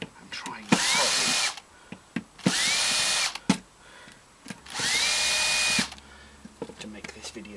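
A power screwdriver backs screws out of a VCR during a teardown, running in three whirring bursts of about a second each with a rising whine, separated by sharp clicks and handling knocks.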